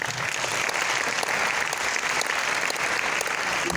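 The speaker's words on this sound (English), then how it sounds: "give them a warm applause" Audience at a science talk giving warm applause, a continuous, fairly loud wash of many hands clapping that holds steady for the full few seconds.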